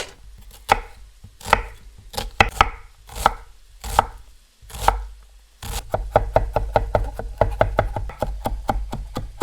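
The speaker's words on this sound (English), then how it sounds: "I'm going to cut up some onions and garlic and basil to go in it." A knife chops onions, garlic and basil on a cutting board for homemade lasagna, first in slow, spaced, thudding strokes and then in a fast, even run of crisp taps close by.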